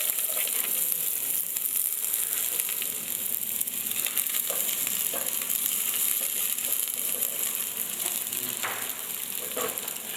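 Onion fries in a little vegetable oil during catering cooking, giving a loud, steady, hissing sizzle with occasional soft stirring scrapes and clicks and no talking.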